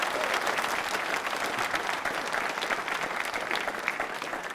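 Audience applause at a quiz show for accounts officers, honouring Mahatma Gandhi, steady, dense clapping from a sizable crowd throughout, fairly loud and close.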